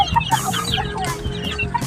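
Several small chickens cluck and chirp close by in quick, overlapping bursts, with no talking.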